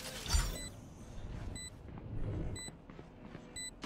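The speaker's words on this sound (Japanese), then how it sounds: "アラームボット展開。" An alarm bot deploys in the shooter Valorant with mechanical clicks and short, bright beeps that repeat at roughly one-second intervals over low game noise.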